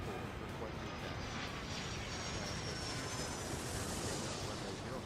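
A jet airliner taxis in the airport simulation game Airport Madness 3, giving a steady, broad engine roar that holds even and unbroken at a low, distant level.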